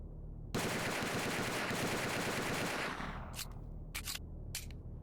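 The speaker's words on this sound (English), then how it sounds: "Let's try out some of these pistols too." Automatic pistol fire in the video game S.T.A.L.K.E.R. Anomaly: a loud, rapid continuous burst lasting a couple of seconds, then fading with a few sharp clicks and rattles afterward.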